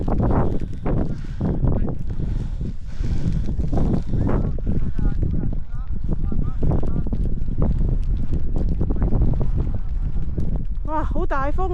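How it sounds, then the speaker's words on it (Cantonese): Strong wind blows with rain over the Dune of Pilat, a tall sand dune near Bordeaux, France. A loud, steady buffeting roar batters the microphone throughout while people talk and shout over it. "好大風啊！"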